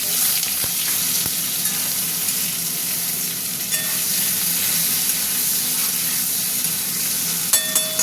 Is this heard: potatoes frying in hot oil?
yes